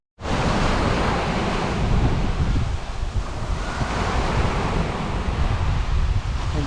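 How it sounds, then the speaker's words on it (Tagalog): Rough surf rolls in continuously at Badlands, a beach near White Beach in Puerto Galera, a loud, close, unbroken wash of breaking waves with wind buffeting the microphone. "Medyo maalon lang dito sa Badlands"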